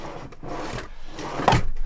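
A heavy, loaded drawer in a converted camper van slides along its runners with a wooden rubbing rumble, ending in a loud close thud, with no talking.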